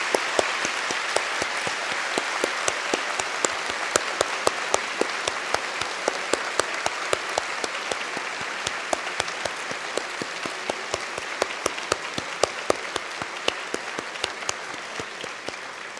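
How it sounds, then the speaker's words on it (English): Long, sustained applause for new lawyers at a bar oath-taking ceremony, with many sharp individual claps standing out above the crowd's steady clapping. "they deserve a long, resounding applause."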